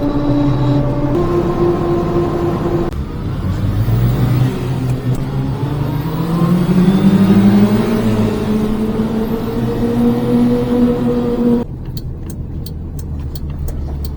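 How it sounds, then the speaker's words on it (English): A micro van's small engine runs close by, its pitch rising and falling in revs before settling into a steadier idle; a short mechanical clatter comes near the end. "Idling pretty good now, eh?"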